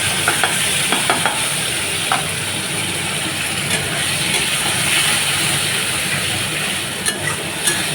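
Garlic and spices frying in hot oil in a pan, a steady close sizzle and hiss with a few sharp pops and light utensil taps scattered through.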